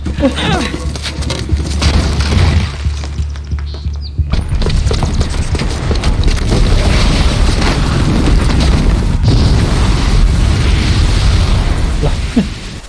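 Loud, sustained rumbling explosions and crackling bursts go on throughout from a booby-trapped bomb in Horizon Zero Dawn on PC, dense and chaotic, with some talking mixed in.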